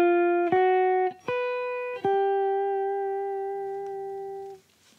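Clean guitar picks out a simple jazz melody over a 3-6-2-5-1 turnaround, four sustained notes struck one after another and left ringing to fade, alone with no talk.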